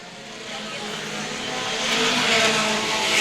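Pure stock race cars roar around Star Speedway, a dense, loud wash of engines building steadily as the pack passes, with a commentator's voice faintly underneath.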